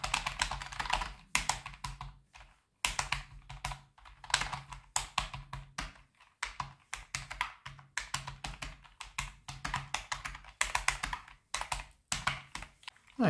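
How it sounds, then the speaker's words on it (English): Fast typing on a Silvercrest SPCC 2 A1 wireless membrane keyboard, soft close-up key clacks in quick rapid bursts separated by short pauses, with no talking. "it is a membrane keyboard. That's why you can hear this sound."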